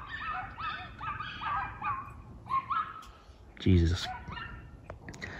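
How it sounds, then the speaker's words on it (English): Several dogs bark in overlapping bursts with yelps and whimpers at moderate distance, a voice breaking in briefly with a loud exclamation partway through. "Why is it that we have a repeating combo of really annoyingly loudly barking dogs?"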